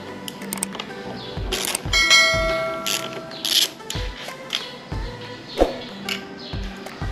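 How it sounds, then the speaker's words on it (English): A hand ratchet clicks in quick bursts while loosening the bolts on the fuel tank bracket of a Royal Enfield Himalayan 450 motorcycle, with sharp metallic taps and clanks between runs of rapid pawl ticking, close and clear. "Now remove these three bolts in order to detach this bracket from the frame."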